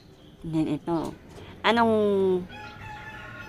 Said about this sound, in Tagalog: ayun, mga manok natin